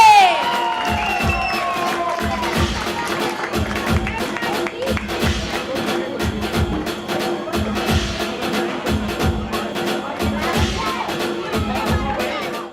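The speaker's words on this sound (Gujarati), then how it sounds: "તાળીઓ." Festival crowd in Kandivali West cheering and clapping during an honouring ceremony, with loud whoops and shouts over sustained applause and a steady rhythmic beat of drums or taps underneath for the whole stretch.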